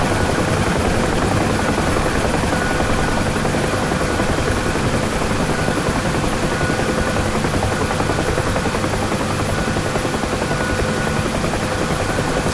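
A UH-1 Huey helicopter in the DCS flight simulator taxis with a loud, steady rotor and turbine roar that runs unbroken throughout, with no talking.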